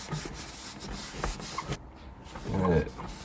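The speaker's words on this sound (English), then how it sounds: "you're just going to want to take a wet rag just to wipe it down" A wet rag wipes down a Team Associated Pro2 SC10 RC short course truck in soft, irregular rubbing strokes, with a longer, louder scrubbing pass near the end.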